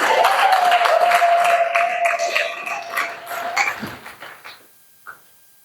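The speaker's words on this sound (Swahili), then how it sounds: "Pigie Yesu makofi." A church congregation applauding for Jesus, a dense burst of clapping that fades out over several seconds, with a sustained voice tone at the start.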